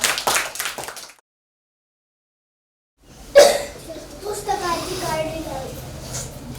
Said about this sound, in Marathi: चला टाळ्या वाजूयात आपण